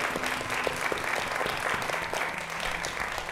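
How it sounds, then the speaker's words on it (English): An event audience claps in thanks to everyone involved, a lively crowd applause with distinct individual claps mixed into a continuous, fairly close patter. "So now we can applaud everybody who made this possible."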